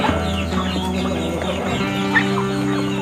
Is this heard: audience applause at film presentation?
no